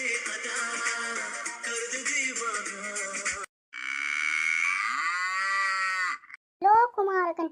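A cow lets out long, drawn-out moos, several sustained calls separated by brief silences and ending in shorter bursts, loud and close.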